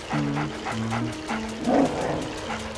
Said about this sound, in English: For the love of dirt, make that yappy dog quiet.